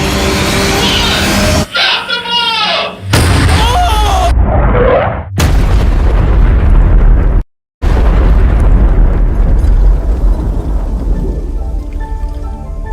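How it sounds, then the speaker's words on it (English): A pyrotechnic bomb rigged with spare fuel explodes in a loud, roaring burst with crackling debris. Several abrupt cuts and a brief silence break up the sound before a long rushing, fiery rumble. "Using our last bit of spare fuel, the pyrotechnics quickly re-rigged the bomb."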